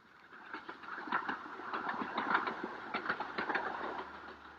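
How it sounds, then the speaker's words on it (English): A small 2-foot narrow gauge steam train puffs and chugs uphill in a rough, uneven rhythm toward the Himalayan foothills near Darjeeling, heard faintly from a distance with no voices. "the little 2-foot gauge railway which puffs and grunts its way up towards the Himalayan foothills"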